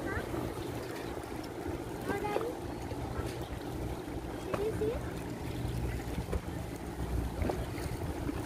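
A tourist ferry cruises across the water toward Asakusa, passing under bridges; a steady engine and water rumble with wind buffeting the microphone runs throughout, with faint voices and brief whistle-like tones above it.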